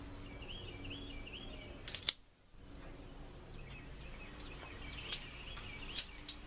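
A cigar cutter snips a Graycliff G2 Maduro cigar outdoors on a porch, giving a sharp close click near two seconds, then a few lighter clicks later, over quiet ambient hum and faint birdsong.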